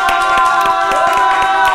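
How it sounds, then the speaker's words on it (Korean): Guests are welcomed onto a school-themed variety show set with a round of clapping, brisk overlapping hand claps running steadily beneath a bright tonal jingle. "자, 다들 박수로 모셔주세요."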